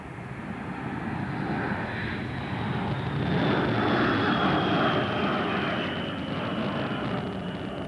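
NATO military aircraft during the 1999 air campaign over Kosovo and Serbia produce a continuous, loud engine roar that swells slightly midway and holds steady throughout, with no talking.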